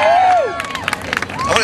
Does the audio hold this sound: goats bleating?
no